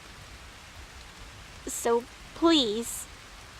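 Steady rain falls as a soft, even hiss throughout, with a brief spoken phrase partway through.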